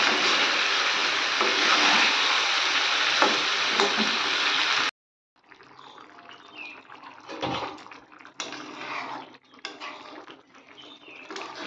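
Chicken with masala, potatoes and capsicum fries in a pan with a loud, dense sizzle, then cuts to a quieter, uneven crackle with scrapes and stirring knocks as the mixture is worked; no talking.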